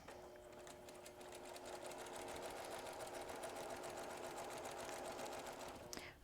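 A sewing machine stitches quilt blocks in a steady, continuous run of rapid needle clatter over a motor hum, stopping abruptly just before the end.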